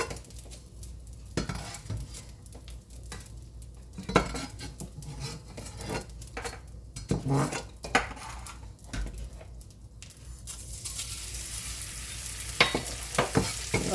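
Pieces of edible gum (gond) sizzle in a pan of hot fat as they are stirred, with nearby metal spoon scrapes and clinks over a continuous frying hiss.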